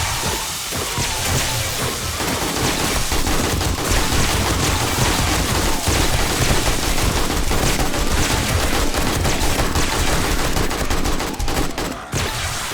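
Sustained heavy gunfire from 7.62 and .44 weapons in the zombie horde game 7 Days to Die, dense continuous volleys of rapid shots loud and close throughout, with no talk.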